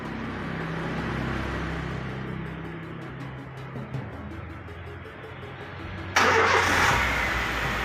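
A Honda Jazz engine, just refilled with mixed radiator coolant, cranks and catches, then settles into a steady mid-pitched idle before a sudden louder rise near the end as it revs or warms up, close by with no talk.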